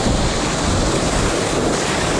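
Onshore wind blows over waves at a seawall, with dense steady surf wash and wind buffeting the microphone. It runs loud and unbroken, with no voices.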